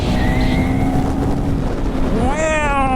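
A KTM motorcycle engine holds a high, buzzing rev, then climbs sharply from about 8,000 to 9,000 rpm, just before the redline, loud and close.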